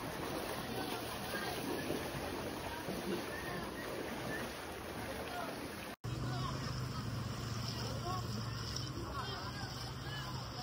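Steady rushing floodwater and boat noise across the whole stretch, with a brief dropout midway and faint voices underneath.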